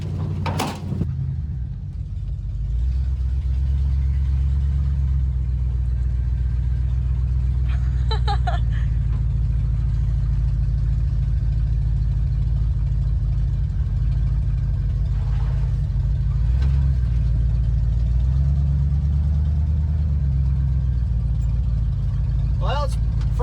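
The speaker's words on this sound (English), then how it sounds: "it's first time on the road in 10 years, and it's running, and it's driving, and we're going down the road in it" A 1979 Ford F100 pickup truck, back on the road after sitting for 10 years, its engine running as it drives, with a loud steady low drone throughout and people talking occasionally.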